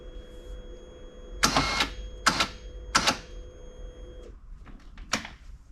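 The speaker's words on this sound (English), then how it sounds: "Now we need to loosen or let out the winch" Winch on a CFMOTO CFORCE 600 ATV being let out, three short whirring pulls over a steady motor hum, then a few fainter clicks after it stops.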